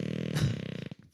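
A person imitates a fart with the mouth, a buzzing, sputtering raspberry about a second long, close and fairly loud, ending in a short flutter.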